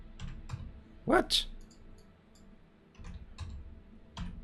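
Typing on a computer keyboard, scattered light key clicks at an uneven pace, with someone briefly speaking in between.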